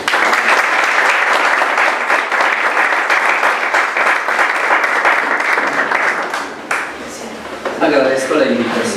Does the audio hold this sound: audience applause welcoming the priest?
yes